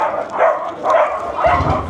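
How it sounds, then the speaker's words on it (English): A dog gives three short, loud barks about half a second apart, close by and fairly muffled, with no talk. "Another dog. It's dog day."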